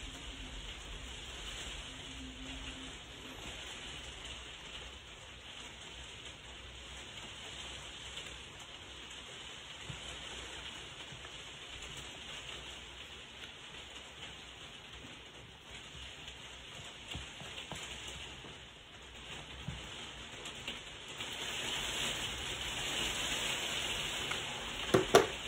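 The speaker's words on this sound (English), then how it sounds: "It's beginning to rain here." Rain falls outside as a faint, even hiss that holds steady throughout, swelling slightly toward the end, with no voices.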